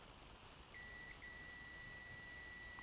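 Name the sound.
continuity buzzer beep of Kaiweets HT118A multimeter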